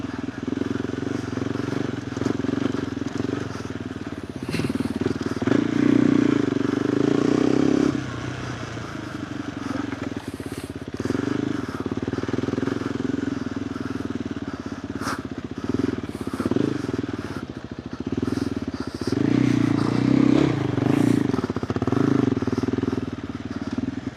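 A KTM 390 Adventure R fitted with a Norifumi Whoops exhaust riding off-road on a rocky trail, its engine droning steadily with swells of revving and rattling clatter from the terrain, close up and continuous, with occasional faint talk.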